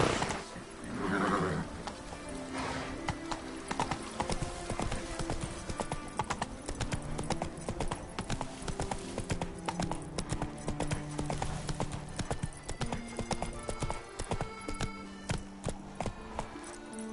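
Hooves clip-clop steadily at a quick gait, with a horse neighing near the start, over a busy game soundtrack of music and effects in The Witcher 3.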